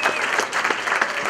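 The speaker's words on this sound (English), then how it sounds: "So let's give them all a round of applause." Audience applause at a dance event introduction, a steady dense clapping that stays loud and even throughout with no talking over it.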